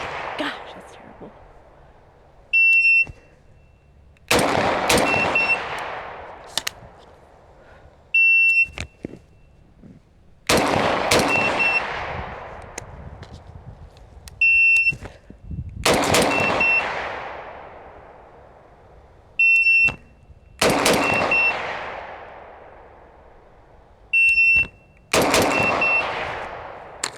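Rifle fired in timed drills at a range, with a timer beep before each string followed by a rapid burst of loud, close shots, repeated six times across the stretch.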